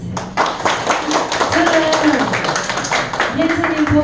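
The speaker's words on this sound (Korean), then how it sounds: "스님께 박수 한번 주세요." An audience at a Buddhist meditation center's tenth-anniversary gathering claps for a monk's Dharma talk, scattered sharp claps heard under prominent speech and overlapping voices.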